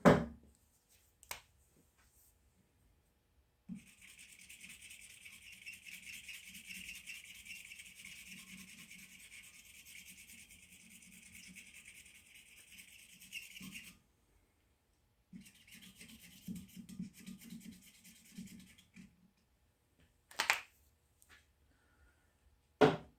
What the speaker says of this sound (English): use these janky old wore out calipers and hopefully transfer the marks